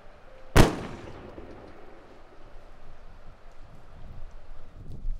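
A single handgun shot cracks loud and close near the start, then rings out into a quiet, breezy outdoor background with no further shots.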